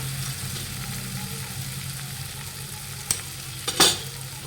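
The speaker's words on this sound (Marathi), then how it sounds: "इथे आपला आता टमाटा छान फ्राय झालेला आहे आता त्याच्यात आपण सगळ्यात आधी हळद टाकून घेऊया" Tomatoes fry in a pan as turmeric goes in, giving a steady low sizzle throughout. A couple of brief scrapes or clinks come near the end, with no voices.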